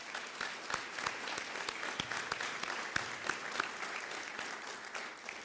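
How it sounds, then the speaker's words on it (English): An audience applauds steadily through the whole stretch at a bill signing held at the Georgia Public Safety Training Center, with sustained clapping, a few sharper claps standing out, and no speech over it. "So let's give them another round of applause, if you will."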